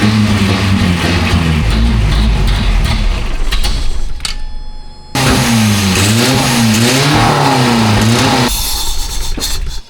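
A Toyota 4Runner left sitting for ten years cranks and catches, its engine revving loudly in close rising and falling surges, with a brief drop partway through before running again.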